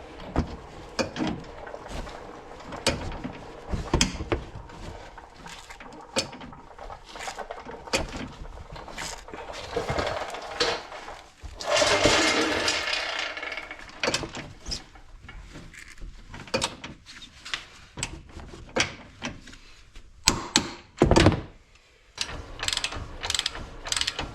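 A torque wrench ratchets down the control arm bolts on an S550 Ford Mustang, giving steady close clicking pawl strokes in quick runs, with a brief louder whirring stretch midway and no talking.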